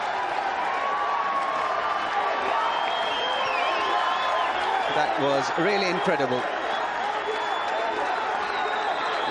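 A packed stadium crowd at a 1999 Coca-Cola Cup cricket match between India and Pakistan roars steadily after a huge hit strikes a sign, a dense continuous wash of cheering under a commentator's voice.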